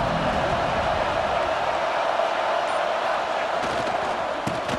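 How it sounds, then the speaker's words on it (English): A packed football stadium crowd at a Duke versus Texas game roars in a constant, loud wall of noise that holds steady throughout. "This crowd ready to make its presence known."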